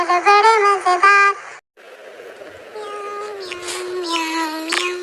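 In a children's cartoon song, a voice imitates a cat with drawn-out, melodic meows over light music. A short pause comes after the first phrase, then more meowing sung notes follow.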